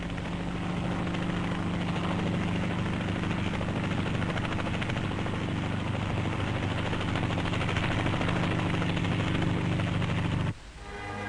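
An RAF helicopter flies over the Butterworth air base, its rotors and engine making a loud, continuous, rumbling throb that holds steady before cutting off abruptly near the end.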